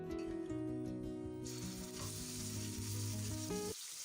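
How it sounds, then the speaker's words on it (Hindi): Ginger garlic paste sizzles and fries in hot cooking oil on a tawa while making kaleji masala, a steady loud crackling hiss that fills the clip, with some stirring and clinking, then it cuts off abruptly near the end. "अब हम तवे को गरम करेंगे और इस पर कुकिंग ऑयल डाल देंगे, और हल्का सा गरम करके अदरक लहसुन इसमें डाल देंगे।"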